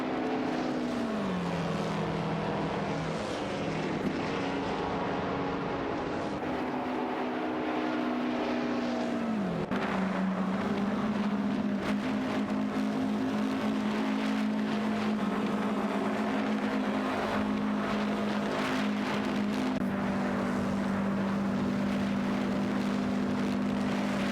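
Racing cars in an AI-driven racing game roar continuously, with a steady engine drone whose pitch dips at gear changes, held at a constant level for the whole stretch with no voices.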